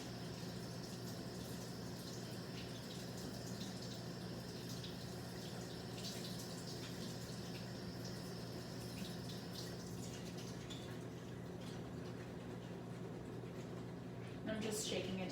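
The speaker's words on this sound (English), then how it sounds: "So the first thing I'm going to do is rinse it with cold water." Cold tap water runs steadily over asparagus being rinsed in a kitchen, a constant hiss and splash that continues throughout, with a brief louder burst near the end.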